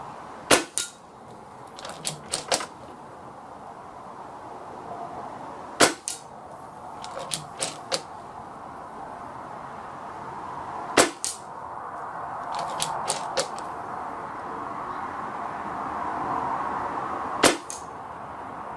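A Hatsan Galatian air rifle fires JSB 18.13 grain pellets: several sharp, crisp cracks spaced seconds apart, with quieter mechanical clicks from loading between shots over a steady outdoor background.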